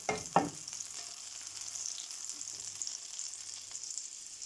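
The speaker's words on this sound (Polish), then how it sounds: "Patelnia tu się rozgrzewa." Fish sizzles in a hot pan with a steady hiss of frying oil, continuous and moderately quiet, with a brief clatter at the start.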